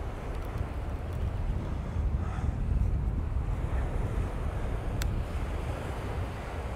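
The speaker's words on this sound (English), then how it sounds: "Because it's blowing a hoolie out there now." Strong wind buffeting the microphone on a beach at Cleethorpes on the UK east coast while sea fishing, a constant low roar with surf in the background and a faint click near the end.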